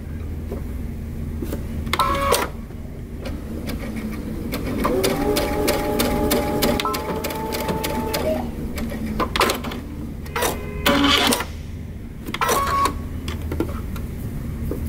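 A home sewing machine backstitches a tee shirt in short mechanical bursts of rapid stitching, stopping and restarting with clicks and whirs at close range, no talk over it.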